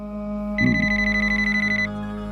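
A telephone rings once in a steady electronic trill lasting just over a second, clear and close over a low background hum with no talking.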